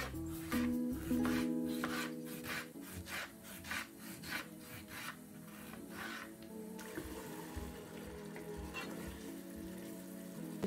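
Onions cooking in a pan for beef kofte curry: a faint sizzle with rhythmic spatula scraping and rubbing against the pan, over a soft tonal background.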